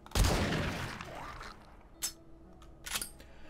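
A pipe shotgun fires once in 7 Days to Die, a loud blast with a long decaying tail, followed by fainter mechanical clicks and clatter of handling.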